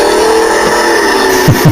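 A car engine revs loudly and continuously in the intro of a racing video game, a steady high-pitched drone with a couple of short bursts near the end, heard alone without talk.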